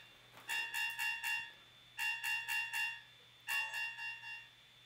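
A Wema ASC-6 analog-to-NMEA converter's alarm beeps over a coolant temperature reading, three quick bursts of four tones each, sharp and fairly close, with a low steady hum underneath.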